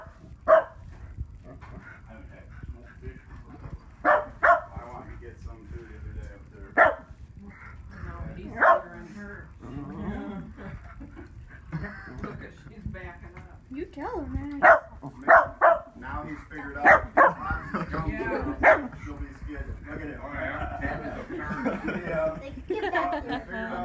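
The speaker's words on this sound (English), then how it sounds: "That's all they can do is bark at her to keep her alive." Dogs bark in short, sharp bursts, some in quick clusters, while people talk over them almost the whole time.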